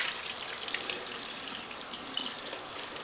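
Water runs steadily from a tap into a leather holster being soaked for wet forming, a continuous close gushing splash with no talking.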